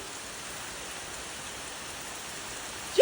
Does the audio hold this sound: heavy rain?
yes